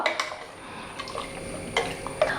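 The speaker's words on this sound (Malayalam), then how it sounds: "ഇനി ഇതൊന്ന് നന്നായിട്ടൊന്ന് മിക്സ് ചെയ്ത് കൊടുക്കുക" Vegetables for sambar are stirred inside a pressure cooker, a spoon giving a few sharp metallic clinks and soft scrapes over quiet background hiss, close by with no talk.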